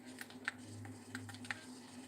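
Keyboard key presses clicking faintly in an irregular stream during a typing race, each press a short crisp tick over a low steady hum.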